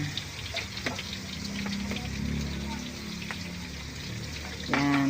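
Pork chops seasoned with soy sauce sizzle and spit in a pan, a steady moderate frying hiss throughout with brief voice bits over it and a louder burst near the end.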